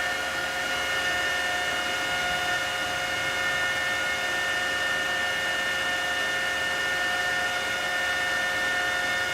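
An Antminer S9 cryptocurrency miner's fan spinning at 6,000 RPM, a loud continuous whirring hum with steady tonal whine and broadband air noise, unchanging throughout.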